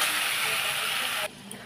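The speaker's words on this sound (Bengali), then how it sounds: "এবার আমি এটাকে ভালো করে ভাজা ভাজা করব।" Potatoes frying in a pan with salt and turmeric hiss in a steady, bright sizzle close by, which cuts off abruptly after about a second, leaving near quiet.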